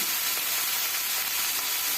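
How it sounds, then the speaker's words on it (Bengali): Winter vegetables and onion stalks sizzle in a hot pan with small shrimp, a steady, close hiss of oil that carries on without a break and with no voices. "চিংড়িগুলি ভাজা হয়ে যাওয়ার পরেই কিন্তু আমি দিয়ে দিলাম সবজিগুলি ঢেলে"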